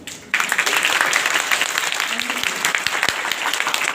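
A school audience applauds at the end of a session. Dense, steady clapping starts abruptly after a brief quiet moment and continues loudly and evenly to the end.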